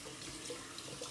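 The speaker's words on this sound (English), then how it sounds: "sorry about the faucet" A faucet runs in a steady, continuous rush of water, fairly close and even, with no talking over it.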